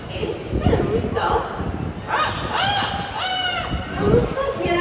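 A rooster crows in a park in Singapore, repeated harmonic calls rising and falling in the middle distance while people talk excitedly over it.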